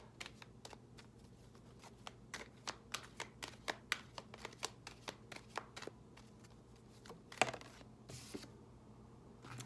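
A deck of numerology guidance cards being shuffled by hand, a steady run of crisp riffling snaps and flicks, close and fairly quiet, with a louder burst of card noise near the end.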